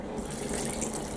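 Tap water runs steadily into a pan holding ginger peel, a close, continuous rushing splash with no break.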